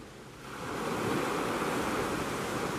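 Sea waves surge in as a sound effect, a broad wash of surf that swells from quiet to loud within half a second and then holds steady, with no voices.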